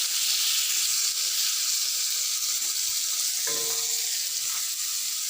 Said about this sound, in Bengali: এখন আরও কড়াভাবে ভাজতে হবে মাছটা